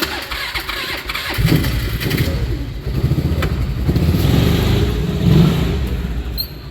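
A Polaris 500 Ranger utility vehicle engine with a newly replaced camshaft runs close by, idling and then revving up in repeated bursts of throttle, with rough mechanical chatter under the rising and falling engine note.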